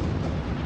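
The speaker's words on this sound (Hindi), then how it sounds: "और इसी वक्त खेल के दौरान होता है बाहर दूसरा बड़ा धमाका।" A large explosion outside the Paris stadium during a football match in a terror attack, heard as a loud, sustained rumbling boom with dense low-end roar lasting the whole moment, no voices.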